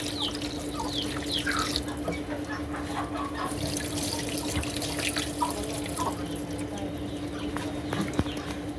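Water is poured steadily from a bottle into a home egg incubator set up for turkey and gramapriya chicken eggs, a continuous close trickling and splashing with a faint steady hum underneath and no talking.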